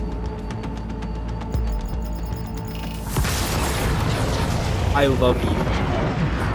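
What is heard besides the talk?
rocket launcher blast in video game Cyberpunk 2077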